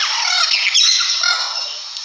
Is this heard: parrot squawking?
yes